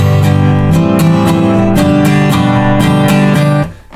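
An acoustic guitar strums the last bar of the bridge of a song in steady, rhythmic chords, close and loud, then ringing out and fading at the end.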